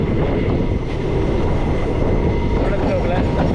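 Passenger train on the Guruvayur to Tenkasi line travelling through a tunnel, a constant loud rumbling roar heard from inside the carriage with no pauses.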